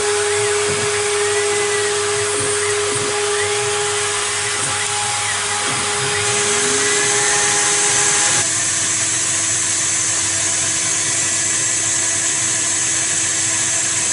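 A Stepcraft CNC router cutter runs on its own with a steady, high, drill-like whine and a low motor hum. The pitch shifts partway through, and the sound continues unbroken and close.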